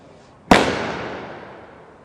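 A single sharp gunshot from a sniper rifle at a SWAT challenge range, loud and close with a sudden crack followed by a long decaying echo.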